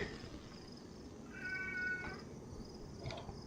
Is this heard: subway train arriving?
no